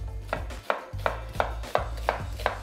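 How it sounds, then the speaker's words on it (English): Knife roughly chopping chorizo sausage on a board, seven evenly spaced firm thuds in quick rhythm, close and clear with nothing else heard. "And we're gonna just literally roughly chop that."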